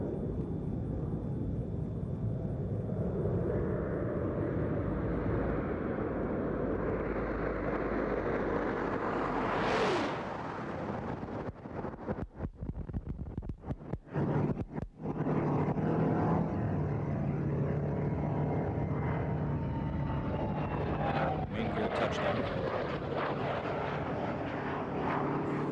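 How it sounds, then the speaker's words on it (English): Space Shuttle Discovery lands on runway 33 at Kennedy Space Center after the STS-70 mission, a loud continuous roar and rushing wind noise that swells near touchdown, followed by rumbling rollout with crackling bursts and a fading whine. "Discovery rolling out on runway 33 at the Kennedy Space Center"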